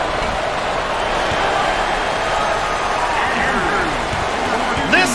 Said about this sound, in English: this crowd is intense, Coach